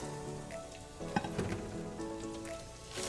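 A whole onion hitting melted butter in a soup pot for a broccoli cheddar soup, giving a steady close sizzle with a sharper crackle as the onion goes in, alone without talk.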